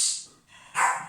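A dog gives two quick, sharp barks close by indoors, the second one louder, with no talking over them.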